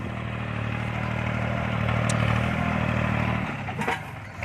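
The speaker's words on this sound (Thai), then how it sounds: "นี่เอารถไถขุดสระนะครับ" The heavy diesel engine of a Kubota L3608 tractor digging a pond drones steadily nearby, a low rumbling chug that shifts pitch near the end with some clattering.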